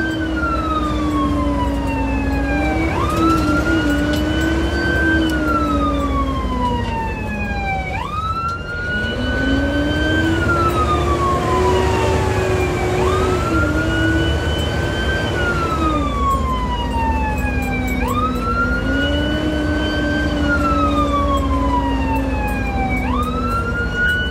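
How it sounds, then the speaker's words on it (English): A loud fire truck siren wails close by, sweeping up and down in long repeating cycles over a low engine rumble. "we're gonna turn on the sirens for you guys"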